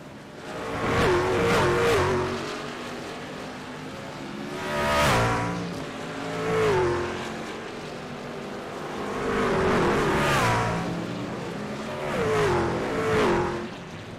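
Racing trucks in a video game roar around the Indy Road Course, engines swelling and fading as they pass in repeated waves, with brief tire squeal under hard braking into a slow corner.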